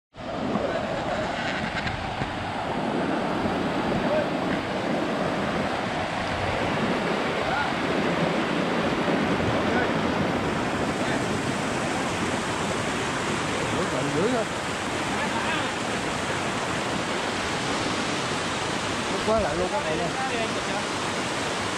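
A mountain stream in Lai Chau, northwest Vietnam, rushes loudly and steadily near the listener, a dense, unbroken roar of water.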